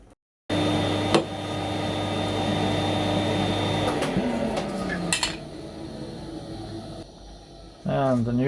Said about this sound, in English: vacuum cleaning